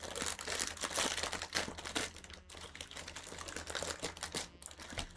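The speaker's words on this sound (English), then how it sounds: "Sorry, I'm crinkling." Food packaging crinkles and crackles close to the microphone in a steady, busy stream of small rustling bursts, with no voices over it.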